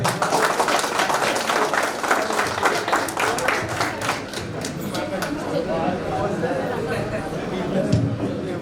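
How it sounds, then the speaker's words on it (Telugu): Students at a school event clap loudly and rapidly for a few seconds, then the applause softens into a lighter, scattered patter mixed with crowd murmur. "సాధారణంగా అందరు గట్టిగా క్లాప్స్ కొట్టాడు"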